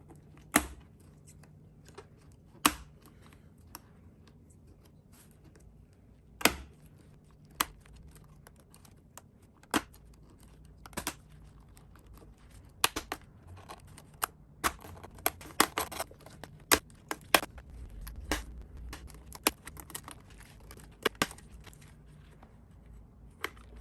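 A 2019 MacBook Pro 16-inch keyboard is pried and torn off during a repair, with scattered sharp clicks, snaps and crinkly tearing noises at close range over a quiet background.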